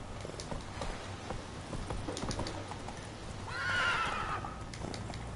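A horse in The Witcher III video game whinnies loudly once while its hooves clip-clop in a steady rhythm throughout.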